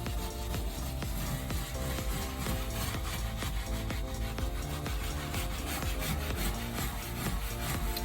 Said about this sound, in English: So from there, you pretty much just scrub until you get all the dirt out.